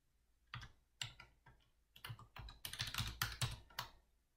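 Keystrokes on a computer keyboard while entering a formula in Excel, a quiet close burst of irregular clicks and taps in quick clusters, with no talking.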